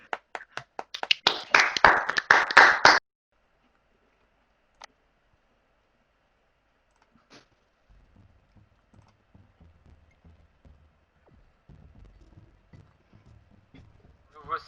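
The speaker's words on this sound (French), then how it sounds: "Applaudis." Improv participants on a video call clap for about three seconds, a close flurry of applause from a few people, followed by near silence and then quiet speech.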